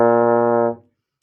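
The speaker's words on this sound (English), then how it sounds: "We have another instrument called the baritone or the euphonium." A baritone euphonium, a valved brass instrument, holds a single steady low note for under a second before it cuts off, played alone and close.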